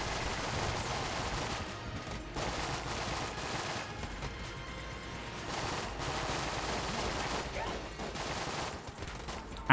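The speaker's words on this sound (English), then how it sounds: "I'm just loving this cyclone of bullets." Gunfire fills a barrage in the video game Enter the Gungeon, a continuous cluttered stream of rapid shots and impacts that swells and dips over several seconds, loud and dense with no talk.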